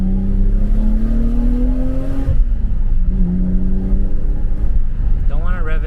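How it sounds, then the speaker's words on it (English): A BMW E34 M5 engine revs with a rising then falling harmonic whine, a second shorter rev following, running steadily close by under a speaking voice, with the engine oil still cold. "Don't want to rev it too much right now, because the engine oil is not up to temp"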